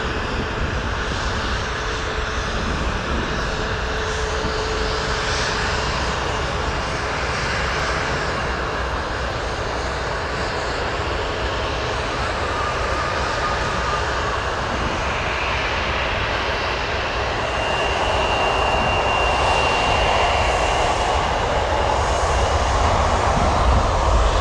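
Airplanes at busy O'Hare Airport in the evening produce a continuous loud engine roar that swells slightly toward the end, heard from nearby without speech.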